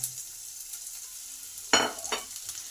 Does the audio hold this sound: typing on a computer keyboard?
no